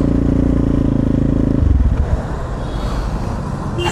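A KTM Duke 390 gen 3 motorcycle fitted with a DNA performance air filter idles with a steady low rumble, then breaks into loud, rapid exhaust crackles and popping, heard close with no talking.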